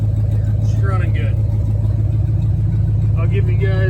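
A 1970 Ford Maverick with a 352 FE V8 runs steadily at idle, giving a constant low rumble, with faint voices and a few brief sounds over it.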